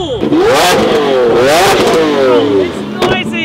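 Supercar engines such as a Lamborghini and Ferrari revving loudly, with repeated rising and falling sweeps of engine pitch, close and prominent, with someone talking over them.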